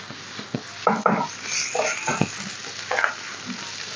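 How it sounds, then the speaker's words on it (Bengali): Chicken fried rice with soy sauce and white pepper is tossed and stirred in a pan: a soft sizzle under a handful of sharp scrapes and knocks from the utensil against the pan. "এখানে একটা হোয়াইট পেপার পরিমাণ মতো দিতে হবে হালকা দিয়ে এখন লাড়াচাড়া দিতে হবে"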